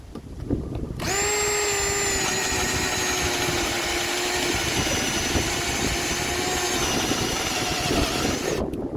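A Baur 20 volt cordless drill runs in screwdriver mode, starting abruptly into a steady, high motor whine that holds for about eight seconds and then cuts off, with no talking.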